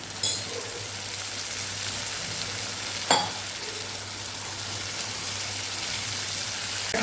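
Onions with a yogurt spice mix sauté over a very low gas flame, giving a soft, steady sizzle under a low hum, with two sharp utensil clinks.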